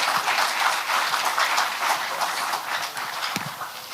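An audience applauds a keynote speaker at a public address, with loud, dense, sustained clapping that holds steady throughout and fades slightly near the end.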